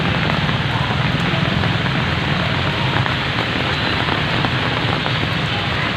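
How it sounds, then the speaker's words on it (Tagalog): Heavy rain pours down steadily and loudly for the whole stretch, a dense, unbroken hiss of drops beating on surfaces with no pauses. "Malakas pa rin ang ulan na aming sinusuong."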